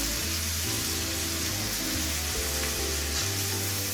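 Butter sizzling and frying in a hot pan while capicola cooks, a steady close crackle with a low hum underneath throughout.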